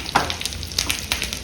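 Urad dal and mustard seeds crackling in hot oil in a pan, a steady close sizzle with a few sharp pops and a light stir, no talking.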